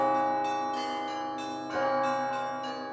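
Large bell in the tower of a Russian Orthodox monastery, the New Jerusalem Monastery, ringing in steady, resonant tolls with long overlapping hum, one stronger strike near the middle, close and loud with no voices.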